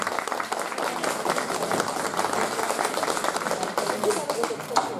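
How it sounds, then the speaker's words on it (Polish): Guests at the 30th jubilee of a folk singing ensemble clap in a hall, a steady, moderately loud round of applause with voices chattering underneath. "Brawa dla gości!"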